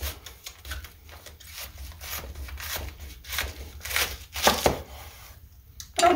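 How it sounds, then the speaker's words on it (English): A knife slices through a head of cabbage into thick steaks, producing rhythmic, close rasping and crunching strokes that build in loudness before a brief pause. "I'm going to go ahead and slice a couple more of these"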